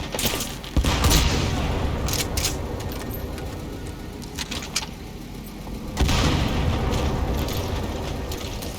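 Rapid gunfire bursts in Metal Gear Solid V: The Phantom Pain, with fairly loud crackling volleys and mechanical clatter over a steady rumbling background.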